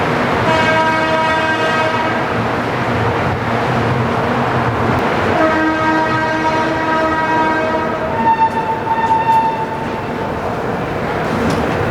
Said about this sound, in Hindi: ट्रेन यहाँ खुल चुकी है और हमारी जो जर्नी है वो अब स्टार्ट होती है यहाँ से।